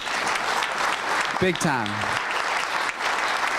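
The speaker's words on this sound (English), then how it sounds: "deserves a round of applause because they really helped us out" Audience applause fills a Rotary Club of Louisville meeting, steady clapping throughout while a person briefly speaks over it partway through.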